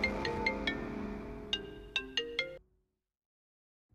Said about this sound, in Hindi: मैडम आपका फोन है मैडम